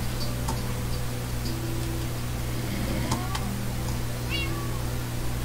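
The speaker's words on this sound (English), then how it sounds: "Where's my kitty? There you are." A cat meows in a house-building video game, two or three short mews set over a steady electronic hum and soft ticking.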